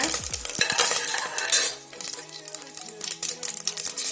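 Cinnamon, cloves and curry leaves sauté in hot oil in a pan, crackling and sizzling up close while a spoon stirs and scrapes, loud at first and then settling into a quieter fry.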